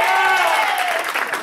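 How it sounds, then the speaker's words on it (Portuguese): Applause from a small group of friends at a birthday party in São Paulo's east side, a dense wash of hand claps filling the short moment, steady and fairly close with a voice over it. "Pessoal, palmas pro Douglas."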